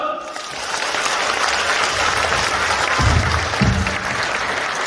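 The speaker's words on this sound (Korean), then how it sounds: "구미시장님께 다시 한번 뜨거운 박수 보내주십시오" A hall full of party members at a training event applauds, a dense, sustained clapping from a large audience with a few heavier thumps near the end.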